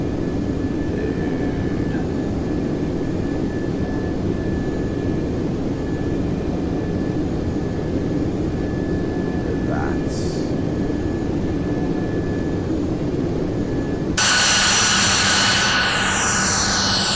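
Simulated Airbus A330-300 climbing in the Prepar3D flight simulator, a steady broad engine roar that carries on throughout, then a sudden louder, brighter whine with sweeping tones near the end.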